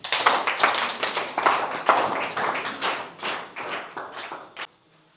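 A church congregation claps steadily in praise, many hands together in a dense, fairly close rhythmic patter that runs throughout and then stops abruptly near the end, with no talking over it.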